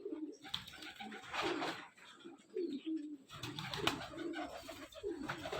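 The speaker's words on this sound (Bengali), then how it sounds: "দাদার প্রচুর পায়রা আছে, প্রচুর কবুতর আছে।" Pigeons at a keeper's house, including racer, madraj and giribaz breeds, coo in deep, rolling, overlapping calls, near and continuous with a busy loft murmur behind.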